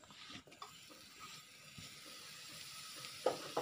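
Tomato added to a frying Kerala-style prawn roast masala, a steady quiet sizzle from the pan with a brief louder crackle near the end, close and alone.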